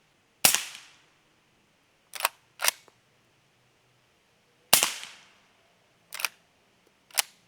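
Six sharp, short cracks spaced irregularly, each with a quick decaying tail: suppressed shots from a Henry .300 Blackout rifle with an Omega 36 suppressor in long configuration, heard from nearby.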